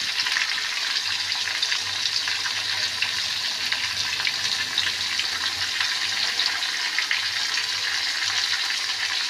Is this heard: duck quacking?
no